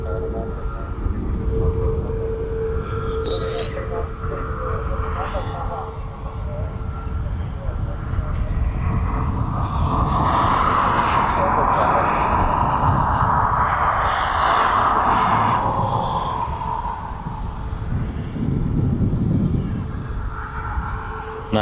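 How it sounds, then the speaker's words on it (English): A Ryanair Boeing 737 MAX 8 jet departs East Midlands Airport for Barcelona, its broad engine roar swelling to a peak and then easing as it passes at a moderate distance. "this is the Ryanair 737 MAX 8 going out to Barcelona"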